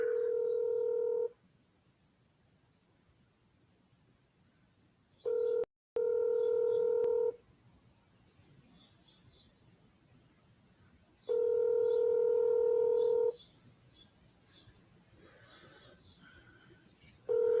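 Telephone call-progress tones sound in repeated steady beeps, each lasting about a second or two and separated by quiet gaps, clear and close as over a phone line.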